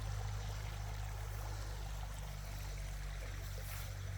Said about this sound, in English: But the creek keeps going for several miles